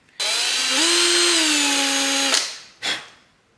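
A power drill whirs loudly for about two seconds while drilling holes in a homemade walking surface fishing lure, its pitch rising as it spins up, then stops, followed by a short second burst.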